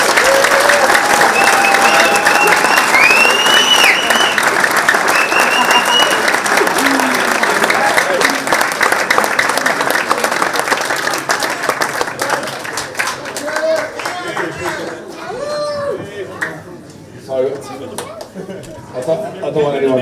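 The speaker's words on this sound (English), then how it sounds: "So I think that deserves an even louder round of applause." A crowd at a football supporters' association season awards evening breaks into loud, sustained applause that thins out after about twelve seconds, giving way to scattered claps, chatter and people talking nearby.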